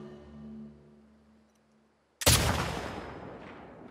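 A single loud, close gunshot in The Last of Us Part II cracks out of near silence after a fading low tone, then rings off in a long decaying echo.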